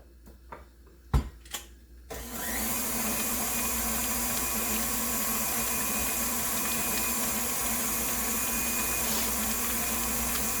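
Electric mixer beating cream cheese and eggs for a cheesecake, starting after a few clicks and knocks, then a loud steady whirring hum that continues unchanged to the end, with no voices.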